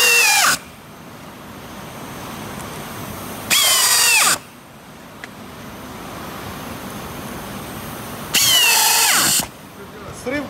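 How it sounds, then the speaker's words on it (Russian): A power screwdriver drives self-tapping screws into wood in three loud whirring bursts, each about a second long and ending abruptly, separated by quieter stretches of background hiss. "Смотри, я с фасовки взял горсть и все просто закручиваю."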